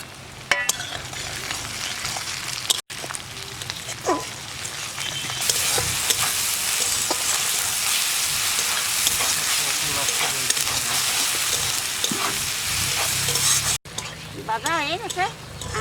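Tomatoes frying with browned onions in a pan make a loud, steady sizzle, broken by stirring scrapes, a few light clinks and short pauses.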